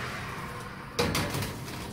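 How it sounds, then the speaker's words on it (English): Oven door in a home kitchen shutting once with a single sharp clunk and a short rattle, fairly faint against quiet room noise. "put them in the oven"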